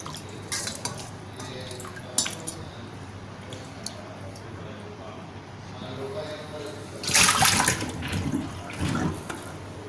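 Chicken liver being rinsed in a bowl of water for a final wash, with steady soft sloshing and dripping, a louder splashing burst near the end, under quiet background noise.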